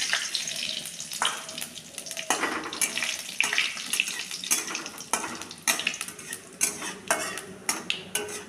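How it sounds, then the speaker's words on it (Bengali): Whole cumin, bay leaf and dried chillies hit hot oil in a pan for tempering, giving a soft sizzle broken by repeated clinks and scrapes of a metal utensil stirring against the pan, close and clear. "গোটা জিরে, তেজপাতা আর শুকনো লঙ্কা ফোড়নে দিয়ে দিলাম।"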